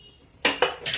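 Fried pakoras lifted from a pan of oil with a metal utensil, three bright clinking scrapes against the pan in the second half after a quiet start.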